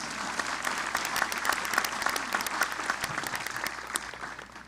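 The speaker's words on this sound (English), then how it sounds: "Go ahead and applaud, that's worth it." Audience applause at a 2021 commencement ceremony for the class salutatorian, a steady wash of many hands clapping that fills the whole stretch at moderate level and tapers slightly toward the end.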